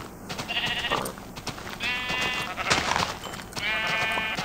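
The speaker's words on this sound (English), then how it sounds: "Ooh, sheep!" Minecraft sheep give three distinct wavering bleats, spaced a second or two apart, over faint game ambience and soft clicking.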